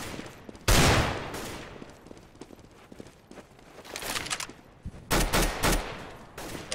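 Video game gunfire: sharp, loud shots ring out alone, a big blast near the start followed by scattered quieter reports and a cluster of heavy shots near the end.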